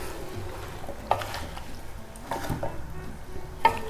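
Cauliflower and chicken cooking in a pot are stirred, with a soft sizzle underneath and a few distinct scraping, clacking strokes of the spoon against the pot, close by and without speech.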